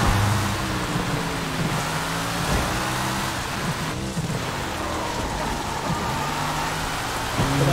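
Continuous rain falling on the streets in the video game Sleeping Dogs, a dense, even hiss over the drone of a car engine that rises and falls, with faint thunder and no talking.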